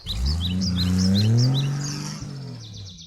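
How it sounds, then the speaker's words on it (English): A truck in the video game Anomaly Eyes of Justice drives along, its engine droning loud and close and rising in pitch, while bright bird chirps repeat above it. "Stop the truck! You're about to run over..."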